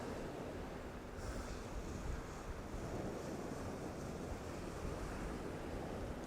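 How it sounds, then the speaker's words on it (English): Easterly wind buffets the microphone on the sea wall at Immingham on the East Coast at night, a constant rough rumble with waves washing in beneath it, no voices. "we currently have an easterly wind"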